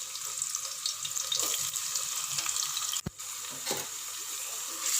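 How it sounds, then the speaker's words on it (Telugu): Chopped onions hit oil heated in a pan for a South Indian goat head curry, giving a steady, bright frying hiss throughout with a brief dip near the middle, no voices. "ఆయిల్ తీసుకొని అది బాగా మరిగిన తర్వాత ముందుగా కట్ చేసి పెట్టుకున్నటువంటి ఉల్లిపాయలు అనేవి యాడ్ చేయండి"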